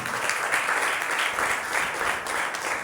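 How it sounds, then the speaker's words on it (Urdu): Congregation at a sermon applauding loudly, a broad wash of many hands clapping together, steady and fairly close, with the speaker's voice faintly over it. "زوردار تالیاں بجاتے ہیں۔"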